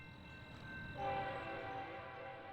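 A Union Pacific westbound freight train with locomotives sounds its horn, a sustained multi-tone blast over a steady rumble, stepping to a louder chord partway through amid gusty wind.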